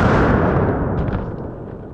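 A bullet strikes a homemade body armor plate, a loud booming blast with a long rumbling decay fading over two seconds, heard alone.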